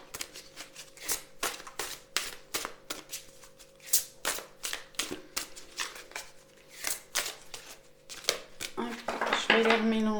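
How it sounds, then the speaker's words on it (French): Large oracle cards being shuffled by hand, a quick run of crisp rhythmic riffling slaps, close and clear, with a brief voice near the end. "Je vais les remélanger une fois comme ça"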